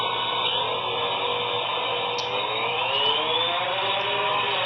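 A steady, high-pitched electric buzz whines continuously without pause, like small spinning rotors hovering nearby, with faint shifting tones.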